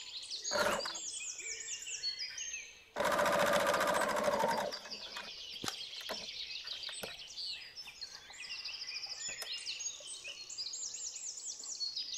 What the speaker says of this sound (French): coudre ces pièces épinglées à 1 cm du bord au point droit